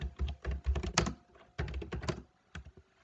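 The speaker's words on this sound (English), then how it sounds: "We're going to type the file name in the top right hand corner there." Keys clatter on a computer keyboard as a file name is typed, two quick bursts of close, fairly quiet taps separated by a short pause.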